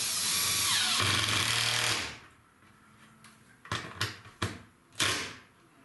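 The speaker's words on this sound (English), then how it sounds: "Let's drive screw." Power driver sinking a screw during ceiling fan and light installation, a loud two-second whir that stops, then several sharp knocks and clatters of handling.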